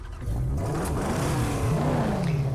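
A car engine revving hard in the video game Mad Max, fitted with a new engine, a loud rising and falling growl that surges twice over a steady low rumble, with no talking.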